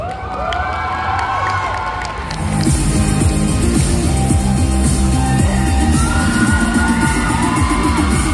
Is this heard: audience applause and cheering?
yes